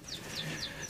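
Birds calling in a breeder's loft, likely pigeons, with repeated short chirps at a steady rhythm over a constant background hum. The calls sound moderately close and continue throughout without any voices.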